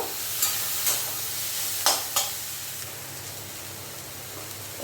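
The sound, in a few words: sautéing shrimp with cumin powder in a pan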